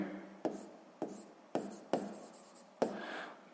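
A pen taps and scratches on paper while a math exercise is worked out, five sharp close strokes at irregular intervals, each followed by a brief soft scribble, quiet and alone.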